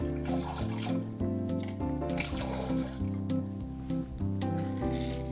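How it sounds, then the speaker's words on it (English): Lemon halves are pressed and their juice squished through a sieve for lemonade, giving wet squelching and trickling under steady background music. "we're going to take those lemons that we rinded and we're going to press them"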